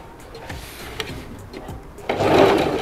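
A domestic sewing machine stitches elastic onto the waistband of a trouser skirt, a soft mechanical whir with small clicks that swells louder and busier toward the end.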